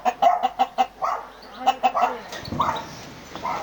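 A rooster about to be slaughtered clucks loudly and close by in a quick run of repeated pulses, then gives a short, rougher series of throaty calls.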